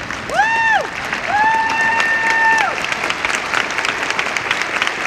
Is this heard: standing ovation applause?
yes